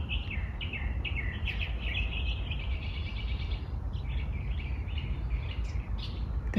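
Small birds chirp and sing outdoors in a repeated, busy chorus of high twittering phrases over a steady low background rumble, with no talking.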